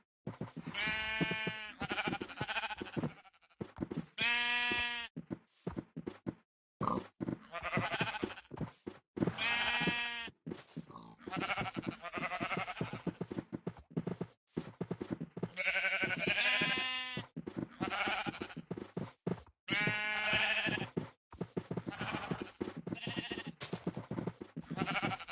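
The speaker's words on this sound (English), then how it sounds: "there are so many sheep around here" Sheep in a Minecraft-style zombie survival video game bleat over and over in short wavering calls, several overlapping, loud and close with brief pauses between bursts.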